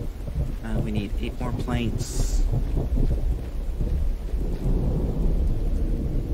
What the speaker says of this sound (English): I was not expecting it to actually start raining like this